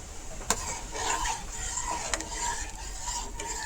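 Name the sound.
sugar syrup boiling in a pan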